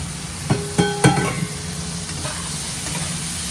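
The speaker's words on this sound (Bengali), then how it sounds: "এর সাথে একটু নেড়ে চেড়ে নেব মশলার সাথে" Prawns with cumin powder, spice paste and a splash of water are stirred in a pan. A few sharp utensil knocks come first, then a soft, steady sizzle continues.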